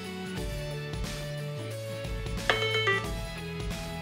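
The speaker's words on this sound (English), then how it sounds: "So it does make a sound on the phone, but it doesn't do it for very long." Phone alert set off by pressing the button on a TrackR Bravo tracker: a short, fairly quiet melodic ringtone with stepped electronic tones and a brighter chime partway through, heard alone in a quiet room.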